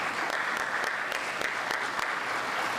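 An audience at a city's State of the City address claps for the staff in sustained, even applause, a dense crackle of many hands heard from a moderate distance without talk.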